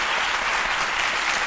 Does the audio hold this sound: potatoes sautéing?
no